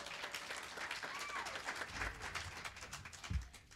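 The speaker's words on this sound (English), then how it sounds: "Tiffany White, let's give her a round of applause" An audience applauds at a World Voice Day celebration at a healthcare center, brief steady clapping with crowd murmur and some speech mixed in.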